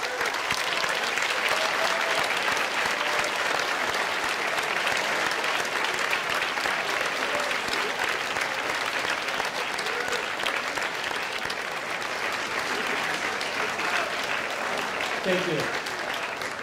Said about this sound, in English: I want you to join me in applauding all of those who helped you get here today.